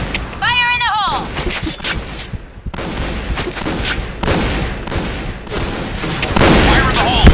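Gunfire and explosive blasts from a shotgun-mode match in the Point Blank shooter game, dense and continuous with sharp repeated cracks and booms throughout, a brief high electronic tone near the start.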